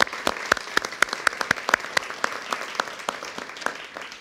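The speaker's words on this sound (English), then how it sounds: "Can we give them a round of applause for the stamp?" At a NASA briefing on total solar eclipse safety, an audience gives a light round of applause, heard as a few distinct, sharp claps repeating steadily over a soft bed of crowd noise.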